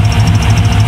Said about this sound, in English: After the oil change, engine quieted down a lot.